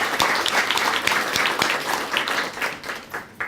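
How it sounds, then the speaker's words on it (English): Audience applause at a school Student of the Month breakfast, a steady dense patter of many hands clapping indoors throughout, easing slightly near the end. "let's give a round of applause to our breakfast sponsors"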